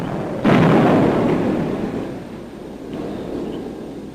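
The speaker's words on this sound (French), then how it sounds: "L'artillerie, les tanks et les mortiers font un barrage protecteur." Artillery, tank and mortar barrage in Korea in 1952, a loud rumbling blast that erupts suddenly and slowly decays into a low roar, with a fainter second boom near the end.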